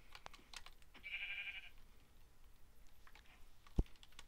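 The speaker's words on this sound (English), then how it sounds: "I can tell you're a gray sheep" A Minecraft sheep gives a single short, thin bleat, fairly faint, followed a few seconds later by one sharp click against a quiet background.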